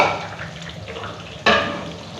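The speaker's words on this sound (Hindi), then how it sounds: "इसके अंदर ये मैं मसाला डालता हूँ," Masala spices sizzle in a pot of hot oil with browned onion and garlic, a steady close frying hiss that jumps louder near the end as more goes in, then keeps crackling.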